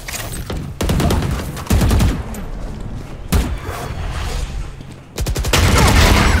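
Valorant gunfire in a tournament match plays as loud, dense bursts of rapid shots, with sharp volleys and booms repeating throughout.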